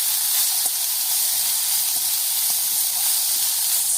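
Cabbage hits a hot pan with chillies and ginger paste, giving a steady, loud, broad hiss of sizzling that holds evenly throughout with no voices.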